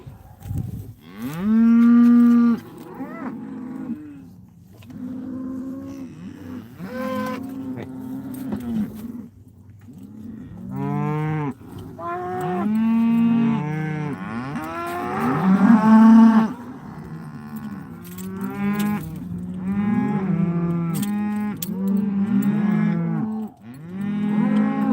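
Cattle moo again and again in an open pasture, with loud, drawn-out calls from several animals overlapping one after another close by.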